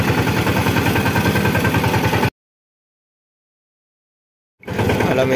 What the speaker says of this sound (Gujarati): હવે જાઉં હું ઘરે ટ્રેક્ટર લઈને